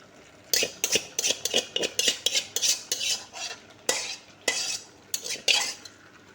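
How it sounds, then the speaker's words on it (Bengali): Potatoes are stirred into poppy seed paste in a pan for aloo posto, with about a dozen rhythmic spatula scrapes and knocks against metal, close and fairly loud, with brief pauses and no talking. "এরপর আলুটাকে অ্যাড করে দিচ্ছি।"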